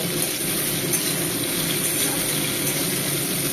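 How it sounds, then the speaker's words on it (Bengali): Potato pieces fry in a pan for a spicy yardlong bean and potato curry, a steady, loud, close hiss without a break. "আলুগুলো আমি লাল লাল করে ভেজে নেব যতক্ষণ না লালচে ভাব আসবে ততক্ষণ এটাকে আমি নাড়াচাড়া করব"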